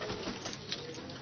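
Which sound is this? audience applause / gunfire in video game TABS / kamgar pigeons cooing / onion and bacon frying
kamgar pigeons cooing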